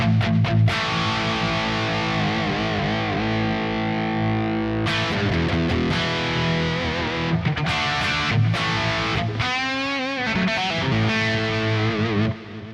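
Distorted electric guitar played through a Kemper amp profile of a Mesa Boogie, with a touch of reverb: loud sustained chords and riffs with shifting notes, continuous throughout and no talking.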